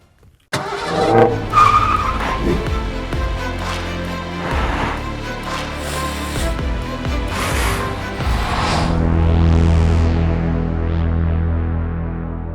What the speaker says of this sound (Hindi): यहाँ पर थोड़ा सा शुरुआती ताबड़तोड़ एक्शन इस AMG SL 55 का देखते हैं।